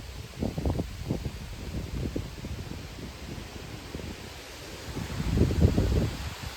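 Gusty wind ahead of an approaching squall line in a tornado-warned storm, buffeting the microphone in uneven low rumbling bursts that swell strongly near the end, with no one speaking.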